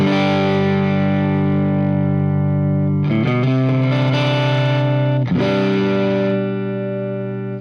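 Electric guitar played through a Diamond compressor pedal into a Hughes & Kettner AmpMan amp, sustained chords ringing loud and even with a fresh strum near three seconds and another near five, alone without talk.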